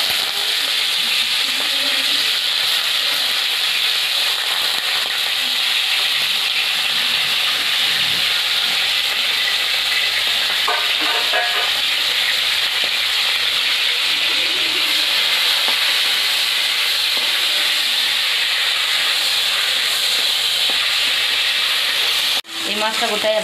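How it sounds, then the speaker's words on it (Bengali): Chicken pieces frying in hot salted oil in a home kitchen, giving a loud, steady sizzle with hiss throughout and a brief stir or clatter near the end. "তেলটা গরম হয়ে গেছে, সামান্য নুন দিয়ে দিলাম। এবার চিকেনটা ছেড়ে দিচ্ছি।"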